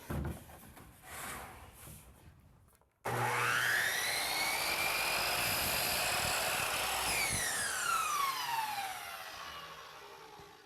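A powered miter saw spins up with a rising whine and cuts through polyurethane baseboard molding, the loud steady cutting tone lasting several seconds before the motor winds down in a falling pitch.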